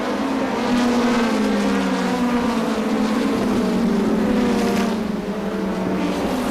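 NEMA midget race cars circle the Waterford Speedbowl during the 2005 championship feature, their loud engines droning and whining continuously with slowly sliding pitch as they pass, heard without speech.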